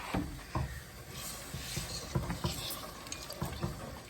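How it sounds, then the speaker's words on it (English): Milk trickles slowly into a roux while a cheese sauce is made from scratch, a soft watery pour with light splashes and a few sharper clinks, close and fairly quiet. "we're going to slowly add our milk in bit by bit"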